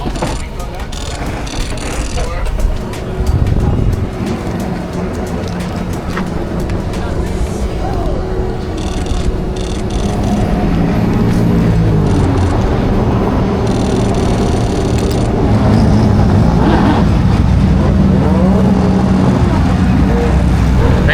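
IMSA race cars head onto the recon lap at the 12 Hours of Sebring, a steady, loud engine roar filling the whole stretch, with people talking over it.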